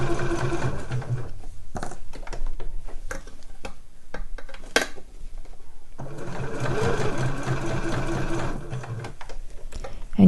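A sewing machine runs in two long rattling bursts while stitching the front of a fabric slipper boot, with a patch of sparse ticks and clicks between the runs.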